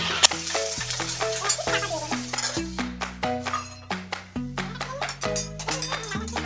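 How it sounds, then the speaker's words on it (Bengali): Sliced bitter gourd and sweet potato frying with a little salt in a pan, a steady soft sizzle broken by frequent scraping stirs of a spatula against the metal, close and alone. "সামান্য নুন দিয়ে ভেজে নেব।"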